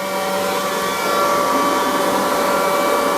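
A Hyundai cordless leaf blower runs at a low speed setting, giving a loud, steady close whine and rush of air with a constant tone throughout.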